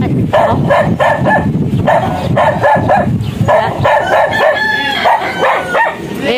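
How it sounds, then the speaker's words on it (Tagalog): Dog barking loudly and repeatedly outside a house, close and continuous, with a rooster crowing mixed in and some background noise. "medyo maingay yung aso"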